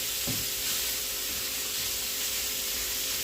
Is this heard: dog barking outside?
no